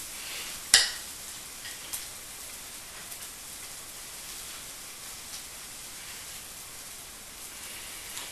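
Zucchini fritters fry in a pan with a steady, fine hiss and crackle, close and even throughout, after one sharp tap at the start, no talking.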